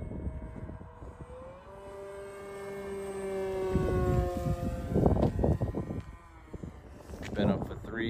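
A PA-28T model airplane on its maiden flight passes by, its electric motor whine rising and falling in pitch as it sweeps past, moderately loud against outdoor wind, with a person talking over part of it.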